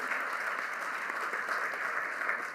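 An audience claps steadily and warmly for Pennsylvania legislators at a school district event, a dense, continuous applause with no voices over it.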